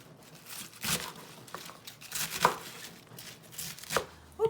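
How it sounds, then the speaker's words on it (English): A knife roughly chops cabbage on a cutting board, with a handful of separate crisp, crunchy cuts spaced irregularly, close and moderately loud against a quiet room. "So you chop it roughly like this"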